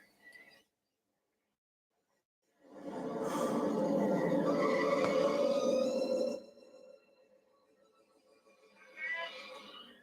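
A truck engine in an outback setting cranks and catches, then roars loudly for several seconds before dropping to a steady idle; a voice speaks briefly afterward.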